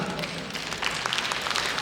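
Dense applause from a crowd, a continuous wash of clapping at steady loudness throughout.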